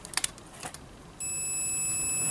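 A few faint clicks, then a multimeter's sustained high-pitched continuity beep starts and holds steadily to the end, while testing a motorcycle charging system wire to ground.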